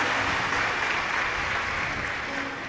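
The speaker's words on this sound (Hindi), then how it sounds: "उनके लिए एक बार जोरदार ताली" Audience at a Shiv Mahapuran religious discourse clapping loudly, a dense steady burst of applause throughout, no speech.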